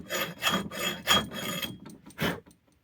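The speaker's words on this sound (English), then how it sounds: "this stuff comes off pretty quickly with even just a hand file here" A single-cut hand file rasps against the eye of a vintage steel axe head in a series of close, rhythmic scraping strokes, about six passes with short pauses between.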